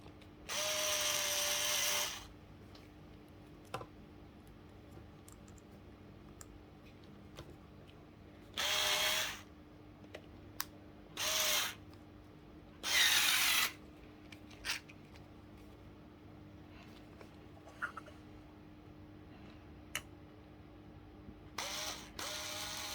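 A small power drill fitted with a 1 mm bit whirs in several short bursts, separated by quiet pauses with faint clicks and a low steady hum.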